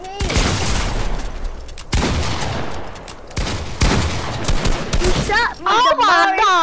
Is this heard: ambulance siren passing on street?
no